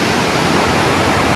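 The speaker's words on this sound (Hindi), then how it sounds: "पानी का शोर इतना अच्छा लग रहा है" Water rushes loudly and steadily out of a tunnel near a bridge in Naran, a dense, unbroken roar that fills the whole clip with no voices over it.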